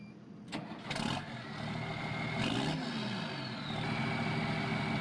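A Fendt Trisix tractor's heavy engine in Farming Simulator 19 cranks and starts, then idles with a rising turbo whine and steady rumble, close and fairly loud, no voices.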